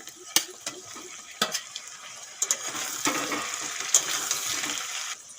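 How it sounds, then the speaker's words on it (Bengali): Potatoes fry in a pan as pieces of fried eggplant go in, giving steady sizzling with stirring scrapes and a few sharp clinks throughout. "আলু দিয়ে দু চার মিনিটের মতো কষিয়ে নিয়েছি এখন দিয়ে দেবো ভেজে রাখা বেগুন"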